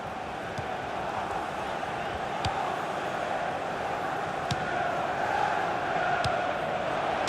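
A stadium crowd in the FIFA 16 video game, at a Premier League match between West Brom and Man City, keeps up a steady roar that swells slightly as it rises on a near miss, with faint sharp knocks over it.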